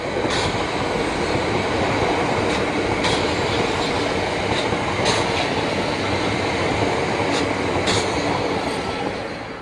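A London Overground DC electric multiple unit rolls past on third-rail track, a loud steady rush of wheels and motors with sharp rhythmic clicks from rail joints recurring every second or two.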